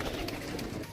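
Pigeons on a rooftop loft give a steady, continuous cooing murmur that stays at an even loudness through the short moment, with no talking over it.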